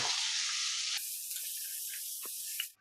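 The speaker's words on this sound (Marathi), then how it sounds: "आता कांदा पण फ्राय करूया" Onions sizzle loudly in a hot pan for a wild leafy vegetable dish, a steady close hiss that drops to a softer crackle after the first second, with a few brief pops before it cuts off.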